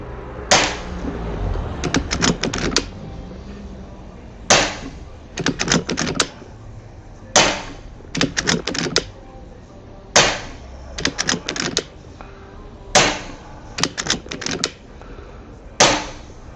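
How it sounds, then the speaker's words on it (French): Snowpeak M60B air rifle fired in repeated bursts: sharp, loud cracks come in quick clusters of three or four, separated by short quiet pauses, with no talking. "J'ai fait un pré-réglage avant, donc on commence les tirs"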